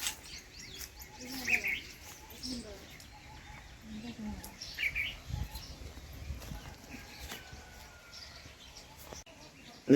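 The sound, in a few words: birds chirping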